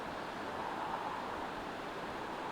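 From a few hundred feet away, the waterfall at New York Creek makes a continuous, smooth wash of rushing water in rainy weather, unbroken and free of talk.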